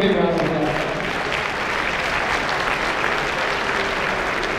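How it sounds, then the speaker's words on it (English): Sustained applause from a gala audience at a food bank benefit fills the room, a dense, steady wash of many hands clapping with some crowd noise mixed in. "let's give the NWA food bank a big round of applause"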